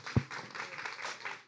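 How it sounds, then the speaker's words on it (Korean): An audience at a Global Doughnut Days community event claps to welcome a neighborhood daegeum club, giving a moderate, uneven patter of hands with one sharp thump near the start and no talk. "네, 큰 박수로 맞아주세요."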